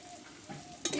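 A brief burst of stirring in a frying pan, with a spoon scraping through sizzling spiced filling and a louder scrape at the end.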